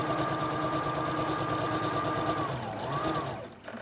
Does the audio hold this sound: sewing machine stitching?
yes